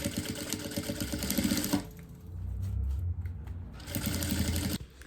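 Sewing machine stitching fabric for a basic zippered pouch, a steady fast mechanical whir that runs, pauses for a quieter low hum, then resumes and stops abruptly, close and clear with no talk.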